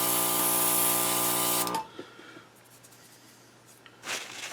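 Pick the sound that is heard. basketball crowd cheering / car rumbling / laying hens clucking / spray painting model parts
spray painting model parts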